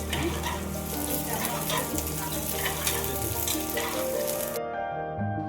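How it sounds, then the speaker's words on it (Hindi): Sliced medium onion frying in a pan, a steady close sizzle with crackling and some stirring noise, continuing unbroken before cutting off near the end. "अब इसमें ऐड करेंगे 1 स्लाइस किया मीडियम साइज का प्याज। तो थोड़ा सा भूनेंगे हल्का ब्राउन कलर आने तक।"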